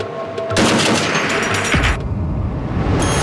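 Gunners aboard the Danish navy ship Absalon fire warning shots at pirates: a loud, close, sustained rattling burst of gunfire, then a shorter burst near the end.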